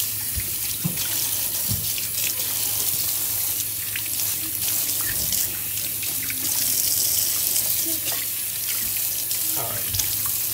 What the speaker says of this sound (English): first thing we're gonna do is rinse the rhubarb.